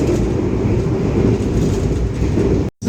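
Steady loud rumble and rattle of the Argo Wilis passenger train heard from inside a carriage on the line from Solo toward Jogja, continuous wheel and track noise with a brief dropout near the end.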